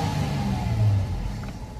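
A 2005 Toyota Tacoma PreRunner with a 4.0 V6 hums at a steady idle during a key cycle, a close, even low rumble with no talking.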